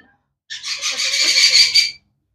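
An orange-winged amazon parrot lets out one loud, harsh, rasping squawk close by. It lasts about a second and a half and is otherwise surrounded by silence.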